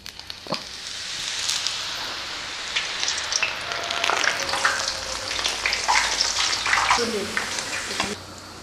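Oil sizzles while frying a Diwali mixer snack, a close, busy crackling hiss with scattered pops and stirring clinks that swells slightly midway and stops near the end.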